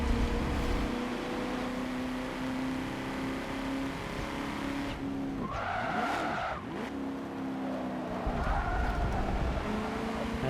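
Racing car engine in Forza Motorsport 7 on a track of sharp back-to-back turns, a steady droning engine note with tire squeal and a rising-and-falling pass by another car near the middle.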